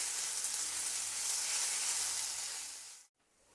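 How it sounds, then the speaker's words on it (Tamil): Ginger garlic paste sizzles steadily in hot oil for masala dal, a loud, even frying hiss that stops abruptly near the end, with no talking. "இஞ்சி பூண்டு பேஸ்ட் போட்டு நல்லா அது பச்சை வாசனை போகிற வரைக்கும் நம்ம நல்லா ஃப்ரை பண்ணணும்"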